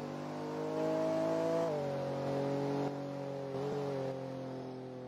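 Race car engine in a Roblox racing game, a steady harmonic drone that climbs in pitch as it accelerates, then settles and holds, loud and continuous with no talking.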